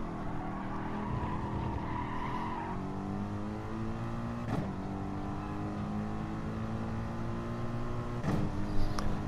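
A race car at Interlagos drives flat out, pulling out of a slipstream, its engine droning loud and steady with harmonics rising and falling slightly, punctuated by two short sharp bursts from passing or shifting.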